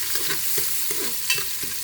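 Onions sautéing in a pan for Kerala-style ghee rice, with a steady close sizzle broken by a rhythmic series of spatula stirs and scrapes, no voices.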